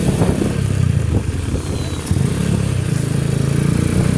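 A RUSI Sigma 250 motorcycle runs while being ridden along a road, its low engine drone steady and close with slight dips in throttle, wind rumble mixed in, and no talking.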